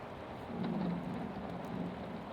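Rain falls steadily on a cabin window while a low rumble of thunder rolls faintly underneath, a soft continuous wash with no voices.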